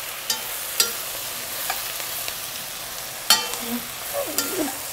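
Whole sprigs of fresh thyme sizzling in a hot pan, a steady soft hiss broken by a few sharp clicks and light scrapes, close and without talk.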